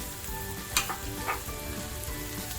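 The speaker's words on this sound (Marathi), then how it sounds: "कोथंबीर हे मस्त आपल्याला फ्राय करून घ्यायचं आहे" Chili, garlic and coriander fry in a hot pan for a boiled-egg tikka pulao, a steady close crackling sizzle with a couple of sharper spits and stirring scrapes, no voices.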